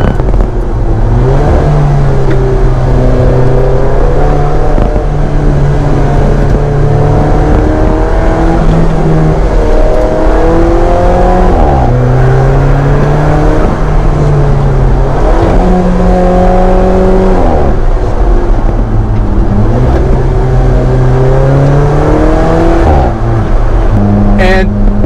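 Four-cylinder turbo engine of an Alfa Romeo 4C Spyder revs up and down through repeated gear changes while driving, loud and close, with a droning low tone rising and dropping in cycles.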